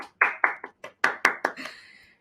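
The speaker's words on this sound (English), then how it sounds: "Leaders, a big round of applause for all our three mega leaders." A short burst of clapping at an AI conference event honouring three leaders: about eight distinct, crisp claps in an uneven rhythm, close and fairly loud, trailing off into a faint ringing tail.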